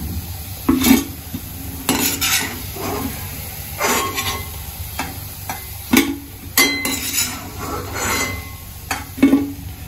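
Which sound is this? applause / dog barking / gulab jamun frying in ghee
gulab jamun frying in ghee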